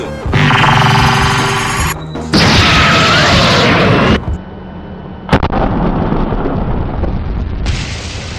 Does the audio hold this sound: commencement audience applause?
no